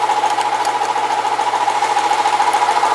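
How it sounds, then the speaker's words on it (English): An air compressor runs steadily in a shop, a loud, continuous mechanical drone with a rapid pulsing rhythm and no pauses. "As soon as that compressor's done"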